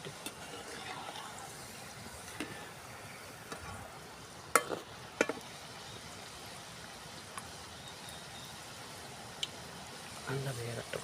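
Almond murukku dough fries in hot oil in a village kitchen, making a quiet, continuous bubbling sizzle with a few sharp clicks and scrapes from stirring, and a voice speaking at times.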